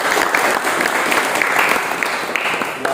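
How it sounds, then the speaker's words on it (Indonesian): Audience clapping after a classroom presentation on car engine repair, a steady burst of many hands with a few sharper individual claps, fairly close and loud. "Tepuk tangan."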